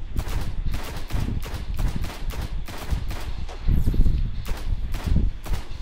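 Rapid rifle gunfire in the video game Destiny, a dense run of sharp repeated shots in quick bursts with brief gaps, loud and close.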